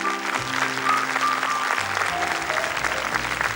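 A TV studio audience applauds a six-year-old child contestant on a 1981 French fan-show broadcast, a steady wash of clapping with faint voices and music underneath.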